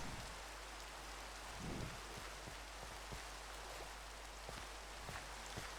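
Soft, steady rain falls outdoors, a faint even hiss with scattered drop taps and no voices.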